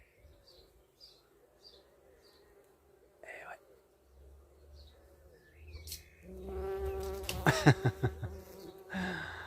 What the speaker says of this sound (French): ça attire vachement les petites abeilles